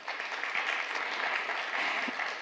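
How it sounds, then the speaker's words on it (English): A conference audience at a health research panel session claps in a soft, continuous wash of applause, somewhat distant and muffled, holding steady without individual claps standing out. "Give her another clap."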